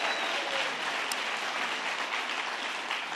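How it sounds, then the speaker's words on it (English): Crowd applause at a governor's announcement event, a dense continuous wash of many hands clapping at steady loudness with no speech. "Let's give them a round of applause for their hospitality"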